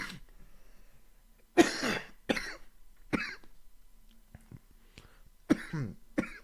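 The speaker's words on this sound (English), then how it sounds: "Coughing like that" Several harsh coughs in separate bursts, fairly close, with quiet pauses and a faint throat noise between them.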